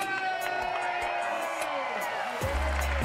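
A large fairgrounds festival crowd of some twenty thousand cheers and whoops steadily as a host takes the stage, forming a dense, continuous roar with scattered shouts, and a voice speaks over it near the end.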